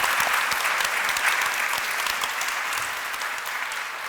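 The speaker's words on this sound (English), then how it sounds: "give them a round of applause for that conversation" Audience applause after an onstage conversation at a talk event, a dense steady patter of many hands clapping together, fairly loud and sustained throughout with no voices over it, easing slightly toward the end.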